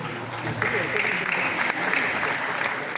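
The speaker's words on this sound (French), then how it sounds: "Merci d'applaudir Adia Khadija Keisha Den, notre Adia national" Audience applause at an awards ceremony celebrating African and Senegalese TV series: a dense, steady wash of clapping lasting the full few seconds, with voices mixed in.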